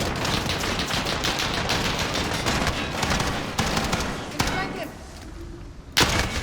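Rapid machine gun bursts fire in the Call of Duty: Modern Warfare video game, sounding loud and close in dense rattling volleys with a few single shots toward the end, with no talking.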